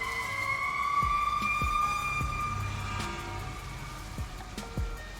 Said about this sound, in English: there's just some sirens going by there